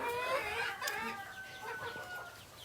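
Backyard chickens, including a rooster, eat kitchen scraps and cluck continuously, with overlapping close calls and a few sharper squawks.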